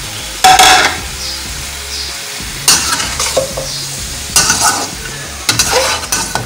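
Chopped onions frying in a pot for tenday gosht, loud sizzling bursts as a spoon stirs and scrapes every second or so, with quieter frying between strokes.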